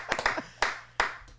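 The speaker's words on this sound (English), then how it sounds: "I'm just going to clap along with you guys." Audience clapping at a podcast recording, a few scattered claps followed by two distinct sharp claps, close and moderately loud, in a quiet room with low background hum.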